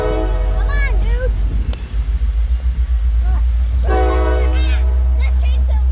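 A long freight train passes near Sloss Furnace with a heavy, continuous low rumble, while nearby people talk over it and tonal horn-like sounds rise briefly twice.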